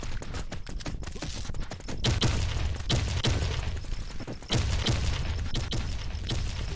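Gunfire in the shooter video game GravityZ, a rapid series of sharp shots and booming bursts in uneven clusters, loud and close, with no speech over it.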